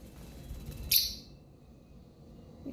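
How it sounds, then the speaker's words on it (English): A pet bird gives one sharp, bright chirp close by, standing out briefly against a quiet indoor background with a faint low rumble. "What's that bird doing?"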